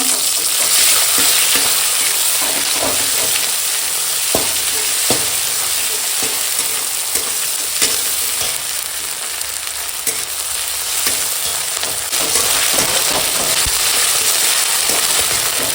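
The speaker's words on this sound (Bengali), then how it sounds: "পেঁয়াজ লঙ্কাটা এখন এরকম ভাজা হয়ে গেছে আর এখন দিয়ে দিলাম আদা রসুন দিয়ে একসঙ্গে বাটা" Onions and green chilies fry in a pan, and ginger-garlic paste goes in, giving a loud, close, continuous sizzle scattered with sharp pops and spatters and the scrape of stirring.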